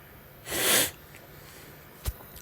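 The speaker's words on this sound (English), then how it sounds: "I got a little cold, more like sniffles" A single sharp, breathy sniff or snort through the nose, followed by a small faint click; quiet room otherwise.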